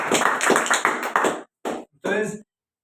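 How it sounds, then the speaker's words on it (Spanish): A church congregation claps in quick, rhythmic bursts for over a second, followed by brief spoken fragments. "Démosle un aplauso al Señor."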